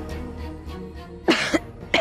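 A person who is feeling feverish coughs three times in quick, sharp bursts, close and loud, after a moment of quiet room tone.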